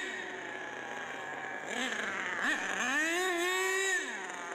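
HPI Big Block nitro engine in a radio-controlled car, revving after a low-speed needle adjustment, with a steady idle buzz rising into several quick sharp throttle blips that climb and fall in pitch.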